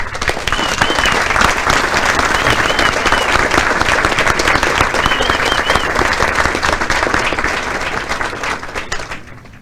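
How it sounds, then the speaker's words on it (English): An audience at a military advanced camp graduation ceremony applauds the awardees, a dense, sustained clapping from a large crowd that holds steady for several seconds before gradually thinning out. "please join me in giving our awardees a round of applause"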